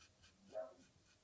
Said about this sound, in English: I know you can hear the dogs probably a bit more.